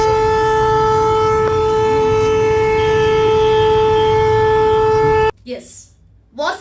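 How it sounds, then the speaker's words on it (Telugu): A war air-raid siren blares a loud, steady, multi-tone wail for about five seconds, then cuts off abruptly, followed by a brief voice. "ఆ వార్ సైరన్ ఎలా మోగుతుందో ఒక్కసారి విందాం."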